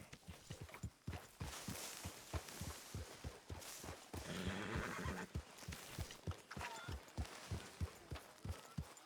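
Horse in Red Dead Redemption 2 whinnies loudly over a steady run of close hoofbeats clopping in even rhythm throughout.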